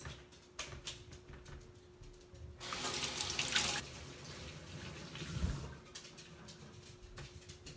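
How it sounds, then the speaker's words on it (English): Tap water runs into a kitchen sink while vegetables are rinsed, a steady close splashing that swells louder for about a second mid-way, then settles back to a softer trickle. "first, we're going to wash our veggies"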